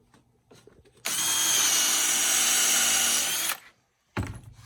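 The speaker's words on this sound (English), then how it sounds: "you don't change direction with the bit in the wood" A power drill bores into wood for an Adirondack chair kit, a loud steady whir that runs about two and a half seconds and then stops, with no one speaking.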